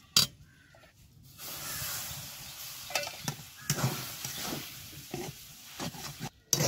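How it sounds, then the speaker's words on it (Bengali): Semolina dough being stirred and mixed with milk in a bowl, a steady soft scraping and stirring noise with several sharper knocks of the spoon against the bowl, close up and with no talk. "এই যে সুজির খুমিরটা বানাচ্ছি দুধ দিয়ে"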